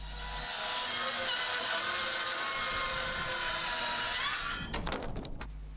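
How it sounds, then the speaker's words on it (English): A track saw cuts steadily through roof sheets, trimming them to final size on a garden room roof; the blade runs loud and continuous for about four and a half seconds, then winds down into a few scattered knocks. "I can just use the track saw to go around and trim them to the final size."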